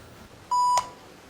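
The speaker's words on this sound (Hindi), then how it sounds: "रोज की तरह पार्वती का फोन आया।" A phone rings for an incoming call with a single short, clear electronic beep, loud and alone against a quiet room.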